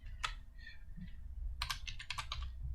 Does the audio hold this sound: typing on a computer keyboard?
yes